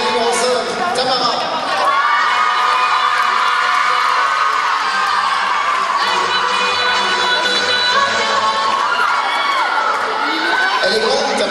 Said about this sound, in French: Merci de l'applaudir en haut, s'il vous plaît.